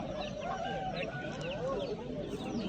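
Chickens and roosters cluck and call in a steady, dense din at a bird and poultry market in Margilan, Uzbekistan, with overlapping fowl voices close by and people talking at times.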